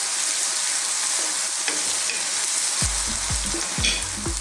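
Fresh green chillies and garlic ginger paste frying in a pan for a mushroom and potato curry, giving a steady loud sizzle with scraping stirs toward the end.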